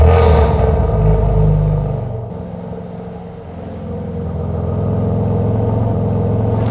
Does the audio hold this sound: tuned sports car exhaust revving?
yes